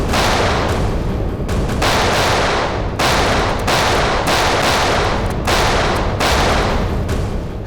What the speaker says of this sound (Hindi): कवर फायर दो जल्दी।